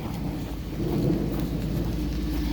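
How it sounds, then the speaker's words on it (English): Steady rain hisses and rumbles as a dense, continuous wash of noise with a low roll underneath, no voices present. "A little bit of rain never hurt anyone."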